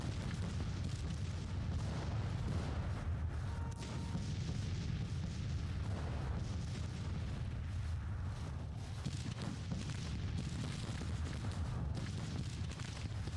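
Continuous battle din from a Civil War strategy game, with dense rumbling artillery booms and crackling musket fire rolling together at steady loudness, no pauses, no voices.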